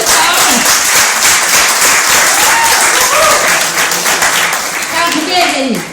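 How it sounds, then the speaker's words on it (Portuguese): A church congregation breaks into loud, sustained applause, dense clapping filling the space for several seconds with crowd voices mixed in. "Salve de palmas."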